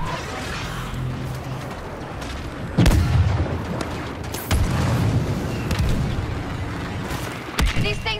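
Rocket fire and explosions during Galactic Assault in the video game Star Wars Battlefront II: a constant rumble of battle punctuated by several sharp, heavy blasts at irregular intervals, with voices speaking among them.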